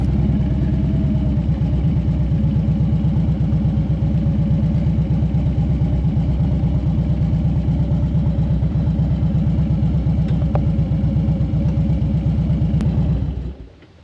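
A motorcycle at the Sturgis Rally campground idles loud and close with a steady, throbbing rhythm for several seconds before the engine cuts off abruptly.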